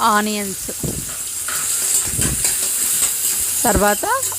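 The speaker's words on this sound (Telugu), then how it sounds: "ఆనియన్స్ అన్నీ ఫ్రై చేసుకోవాలి" Onions and curry leaves for poha upma fry in a pan with a steady, close hissing sizzle, while a person talks over it at the start and end.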